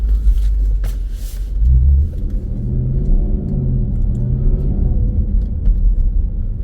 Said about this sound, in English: I'm gonna paddle shift it out of here so you guys can hear the amazing Jaguar sound